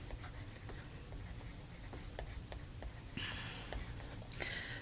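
A pen moves across paper in quick, scratchy strokes close by. Soft breaths and a sniff come in the gaps, and two brighter, sustained scrapes follow near the end.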